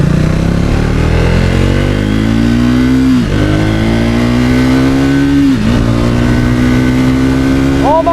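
A Triumph Speed 400 motorcycle engine revs hard and loud, its pitch climbing steadily through the gears with brief dips at each shift, recorded up close from the rider's position.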